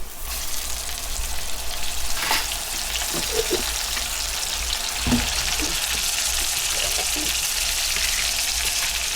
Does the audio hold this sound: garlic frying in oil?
yes